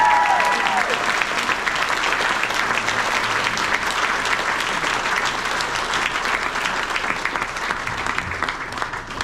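A large audience at a scholarship award ceremony claps continuously for about nine seconds, a thick, even wash of applause that stays loud throughout.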